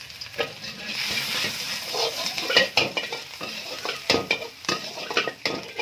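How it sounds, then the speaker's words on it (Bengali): Chopped garlic and ginger sizzle in hot oil in a pan for spring rolls, a steady close frying hiss broken by repeated metal scrapes and clinks of stirring. "তেলটা গরম হয়ে গেছে, এবারে এর মধ্যে রসুন কুচি এবং আদা কুচি দিয়ে দেবো"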